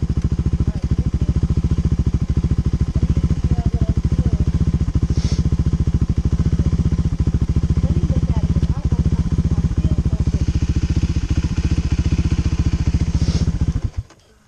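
Honda Hawk 250 motorcycle engine idling and revving steadily while a rider practices clutch control at Cravens in Pitkin, Louisiana, loud and close, a rapid even engine pulse throughout before cutting off abruptly at the end.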